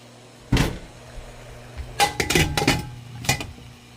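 A pot lid set down on a pot while steaming mugwort dusted with flour: one loud clink, then a cluster of metallic clatters and a final tap, close by with no talk.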